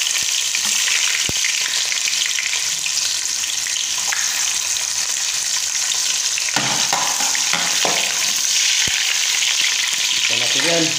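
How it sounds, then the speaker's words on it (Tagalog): Sliced bitter melon (ampalaya) sizzles and fries steadily in hot oil in a home kitchen, a continuous loud crackle broken by a few stirring clinks and utensil scrapes. "Mainit na yung mantika natin. So, gisa na natin yung ating ampalaya."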